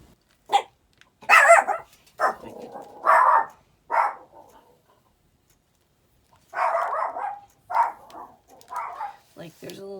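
A pet dog barks in a series of sharp, loud barks indoors, with a pause midway, then a rapid burst and a whiny yip at the end.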